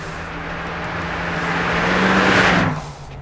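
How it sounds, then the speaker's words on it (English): A Ford Mustang GT's 289 V8 idles with a low, continuous growl, swelling slightly louder before easing off, close by and without talk. "there's nothing like the sound of that nice little growling,"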